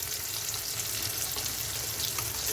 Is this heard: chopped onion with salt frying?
yes